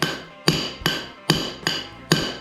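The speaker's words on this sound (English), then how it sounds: "You pick a piece of your concrete that you're not too attached to. You get a framing hammer or whatever" A framing hammer strikes a piece of concrete six times in a steady rhythm, each blow a sharp, ringing metallic crack that decays quickly, close and loud.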